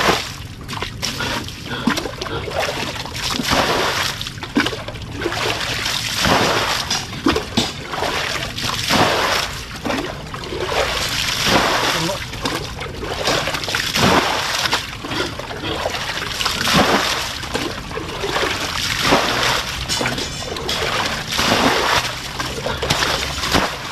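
Water is bailed out of a boat, the scoops sloshing and splashing in an irregular rhythm close by and fairly loud for the whole stretch, with brief bits of talk in between.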